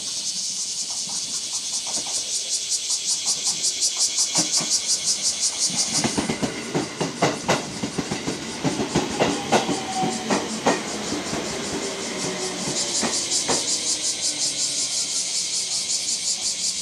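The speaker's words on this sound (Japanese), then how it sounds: "下り普通列車が発車です。" A local passenger train pulls away from a seaside station in Japan, giving a hiss of brakes, then clicking wheels over rail joints and a rumbling motor that builds, along with faint station sounds.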